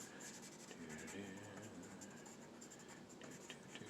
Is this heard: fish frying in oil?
no